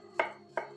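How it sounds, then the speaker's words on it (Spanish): Two crisp knife chops strike a cutting board while food is being minced, quiet and close, spaced about a third of a second apart with no talking. "Y lo picamos."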